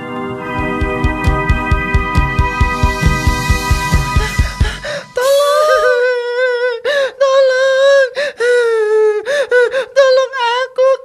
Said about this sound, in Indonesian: Kenapa nafasmu tersengal-sengal begitu?